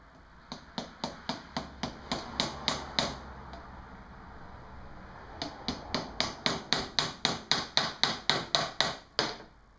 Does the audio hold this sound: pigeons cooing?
no